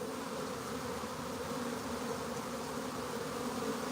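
A swarm of honey bees clusters around their queen, a dense, steady buzzing drone that stays loud and close throughout with no talk.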